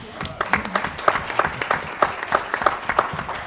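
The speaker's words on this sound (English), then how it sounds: "Give Blair a round of applause." An audience claps in a conference room after a speaker's call for applause. The clapping is dense and even, with steady rapid claps throughout and no voices standing out.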